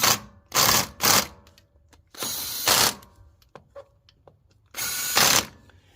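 A power drill runs down the clutch cover bolts on a Victory Cross Country motorcycle in a home garage, giving four separate loud whirring bursts with short quiet gaps and small clicks between them.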